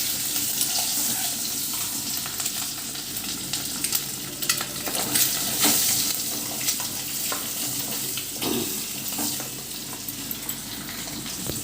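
A pan of dosakaya (yellow cucumber) dal with red chilli powder being stirred, a steady wet frying hiss under irregular scraping and stirring strokes, close and fairly loud, with no talking.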